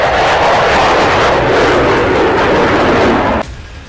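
A fighter jet roars overhead in a loud, steady broadband rush that holds for over three seconds, then cuts off abruptly near the end, leaving a quieter residual hum.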